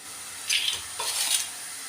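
Garden cress seeds sizzle in hot oil in a pan as tempering for saag, two short, faint bursts of crackling hiss over a low background.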